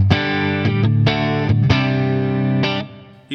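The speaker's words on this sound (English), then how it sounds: "Here is the compressor." An electric guitar played through a NuX compressor pedal rings out as sustained, distorted chords with even, squashed dynamics, several chord changes in a row before the last one fades.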